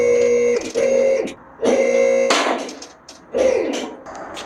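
A lift raises a Ford F100 truck in the shop, its pump motor whining in three loud, steady bursts separated by short pauses and clunks.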